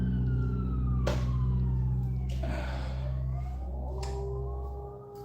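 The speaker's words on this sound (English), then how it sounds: "The siren's gone past." An emergency vehicle siren passes by: its wailing tone sweeps in pitch and fades as it goes, over a steady low mechanical drone.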